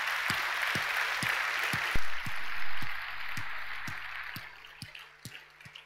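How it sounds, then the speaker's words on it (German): A conference audience applauds the speakers with dense, steady clapping that fades gradually, while soft rhythmic ticks sound underneath. "die haben einen großen Applaus verdient."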